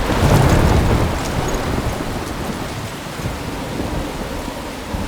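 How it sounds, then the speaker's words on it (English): A heavy thunderstorm from the video game Life is Strange: steady loud rain with a deep thunder rumble at the start, continuous and without talk. "I'm trapped in a storm?"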